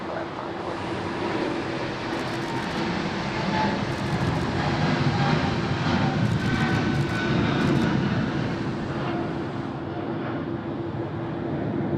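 A Qantas airliner takes off from Sydney Airport bound for Vancouver, its jet engines a loud, sustained roar that holds steady for twelve seconds, with faint radio chatter briefly over the top.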